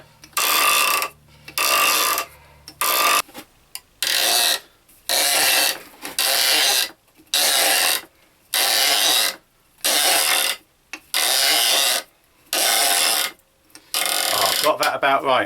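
A handmade rounder plane cutting a wooden peg, a series of about a dozen loud, rasping cuts, each roughly a second long, separated by brief pauses, close and without talk.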